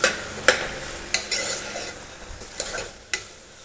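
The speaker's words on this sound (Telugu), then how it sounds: "బాగా మిక్స్ చేయాలి. చూసారంటే టమాటాస్ కొంచెం దగ్గర పడ్డాయి." Tomatoes cooked down with ginger-garlic paste are stirred in a sizzling pan for pesara pappu, a steady close sizzle broken by sharp spoon scrapes and clicks against the pan about every half second.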